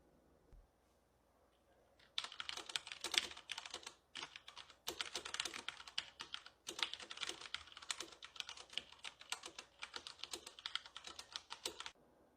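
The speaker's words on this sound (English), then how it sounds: "Let's do an audio test with this HP Omen Spacer keyboard" Fast, steady typing on an HP Omen mechanical keyboard with Cherry MX Brown switches, crisp clacking keystrokes close up in a quiet room, after a short pause at the start.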